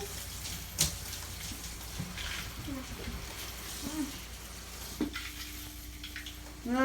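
A new shower head spraying water in a home bathroom, a continuous hiss of spray with brief bumps and a low voice talking over it.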